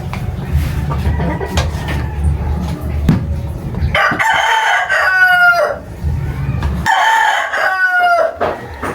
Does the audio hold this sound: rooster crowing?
yes